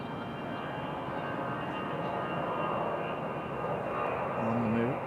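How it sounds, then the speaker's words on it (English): American Airlines Boeing 737 on the move at Raleigh Durham airport, a steady distant jet roar with a faint rising whine near the end. "as well as our American 737 getting a move on"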